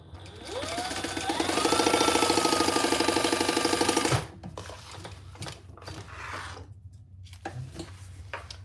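A sewing machine runs at speed for about four seconds, stitching across the bottom of two fabric pieces with a fast mechanical whir, then stops, leaving faint handling clicks and rustles.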